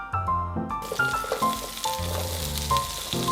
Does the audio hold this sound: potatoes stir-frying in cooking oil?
yes